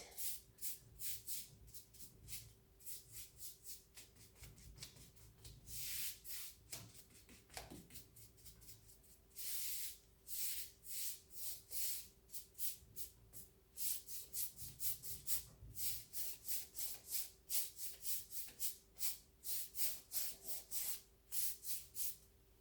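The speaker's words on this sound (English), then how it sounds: "I like to sand between every single coat." Quick back-and-forth scraping strokes of sandpaper lightly sanding dried white paint between coats, repeated in short bursts, close and fairly quiet with no talking.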